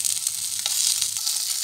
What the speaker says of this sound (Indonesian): Nah, ketika kita menggoreng ya